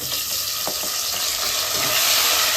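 Shallots and tomato sautéing in hot oil for a chicken curry, a dense, loud sizzle with a few scraping stirs early on, no voices.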